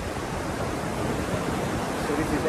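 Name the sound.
waves at Emerald Beach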